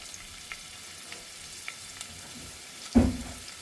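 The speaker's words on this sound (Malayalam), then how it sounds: "കുക്കർ അടുപ്പത്ത് വെച്ചിട്ട് ഓയിൽ ഒഴിച്ച് കൊടുത്തിട്ടുണ്ട്. ചൂടായി വന്നിട്ടുണ്ട്. സവാളയിലേക്ക് ഇട്ട് കൊടുക്കാം." Sliced onions drop into hot oil in a pressure cooker for keema curry, a faint low sizzle with a few soft ticks, then a sudden louder splash-like hiss near the end.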